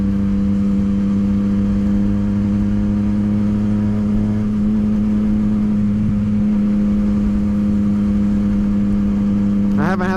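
A 2016 Yamaha FZ09/MT09 fitted with a Power Commander and full titanium Akrapovic exhaust idles steadily, a loud, close, even engine drone held for the whole stretch, with a brief rise right at the end.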